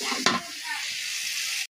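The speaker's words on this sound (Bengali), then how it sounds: "তো আমি কিন্তু 1 মিনিটের মতো মশলাটাকে ভালো করে ভেজে নিচ্ছি।" Cumin, chili powder and salt fry in a pan with a continuous close hiss, a sharp stir click near the start, then steady sizzling until it cuts off.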